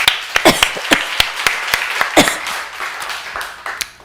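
A church congregation applauds in a loud, close burst of scattered claps that thins out toward the end, with no talk over it.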